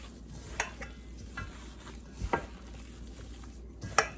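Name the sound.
mixing meatball mixture with spices and breadcrumbs by hand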